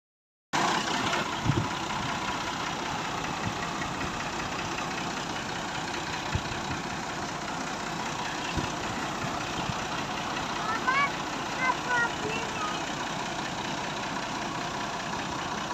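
A tractor engine idles steadily, powering a water pump that drains rainwater from flooded cotton fields in Punjab, Pakistan; a constant mid-range drone fills the whole stretch with a few faint bird calls near the end and no talk.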